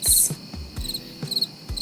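Cricket chirps used as a silence gag: bright, high trills repeat at a steady rhythm, clear and close, with no talking over them.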